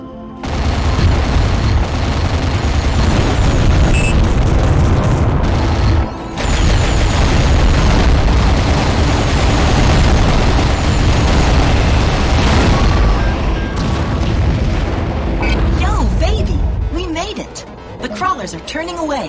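Explosions as a target is destroyed in the underwater combat game AquaNox, dense loud booms and rapid gunfire-like blasts filling the scene, with voices mixed in, before the noise thins out near the end.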